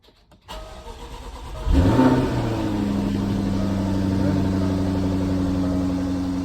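A Jaguar F-Type R engine cranks and fires up with a brief rev, then settles into a steady, even idle close by.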